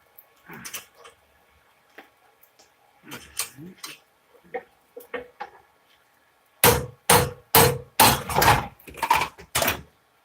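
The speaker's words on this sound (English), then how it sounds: "my whole stand just fell over" A workshop stand in a knife-making and buffing shop topples over, setting off a burst of loud metallic clatters and bangs as tools scatter. Lighter knocks and rattles come before it.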